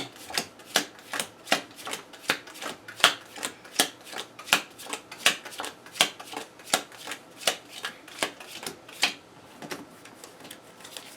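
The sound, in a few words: shuffling a deck of game cards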